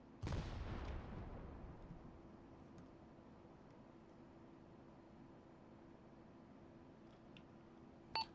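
Field gun artillery fire in a video game, one heavy boom near the start that rolls off into a long fading rumble, then a quiet stretch with a faint later thump.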